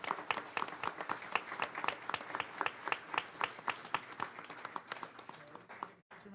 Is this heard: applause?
yes